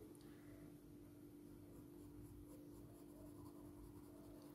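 A soft graphite 4B pencil rubs across paper in steady, faint scratchy strokes while drawing dark short fur, close and quiet with no talk.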